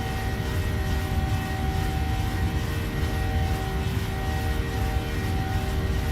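Steady, loud drone from the twin engines of a PMDG 737-800 running at climb power in Microsoft Flight Simulator, with a constant whine layered over a dense roar and no pauses.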